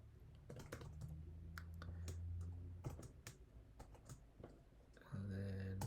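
Typing on a computer keyboard, a run of quick, close, uneven key clicks with a low steady hum underneath and a louder tonal noise joining near the end.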